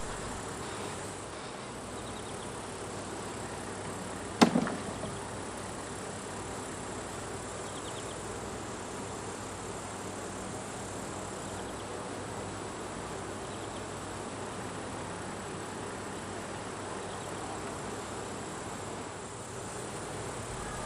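Honeybees foraging around a beehive during the honey flow, a steady, even insect hum that runs continuously throughout, with one brief sharp click early on.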